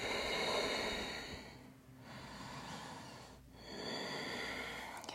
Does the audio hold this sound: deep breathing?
yes